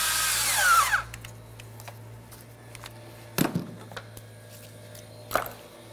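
A power tool tightens a lower radiator hose clamp on a 2002-2005 Ford Explorer: a short whirring burst at the start, then quiet with a few sharp clicks and knocks.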